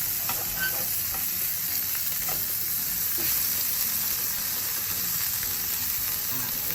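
Ingredients getting a bit of colour in a hot pan, a dense, steady sizzle with occasional scrapes as they are stirred, close and loud with no talk.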